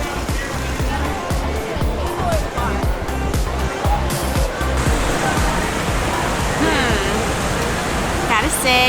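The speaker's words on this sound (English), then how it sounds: "you can't hear any of the car noise, it's fountains, a lot of restaurants, bands playing" Fountains splashing along the San Antonio Riverwalk, a loud continuous rush of falling water close by, with traffic-like rumble and background voices mixed in throughout.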